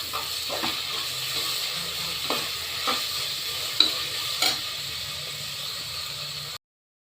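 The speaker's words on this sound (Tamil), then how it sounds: "கொத்தமல்லி தழை, புதினா தழை, பச்சை மிளகாய் எல்லாத்தையும் சேர்த்து தாளிச்சிக்கலாம்" Coriander leaves, mint leaves and green chillies sauté with ginger garlic in a pan. A soft, steady sizzle runs under a few light stirring clicks, then cuts off abruptly near the end.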